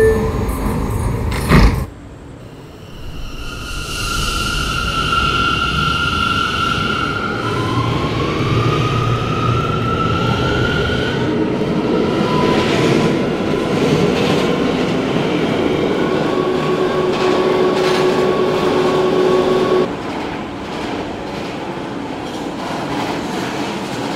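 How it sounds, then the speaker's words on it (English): A Euclid Avenue-bound R179 C local subway train runs loudly after a sharp door clunk, its motors whining upward as it accelerates over constant wheel rumble and clatter, easing slightly near the end. "This is a Euclid Avenue bound C local train."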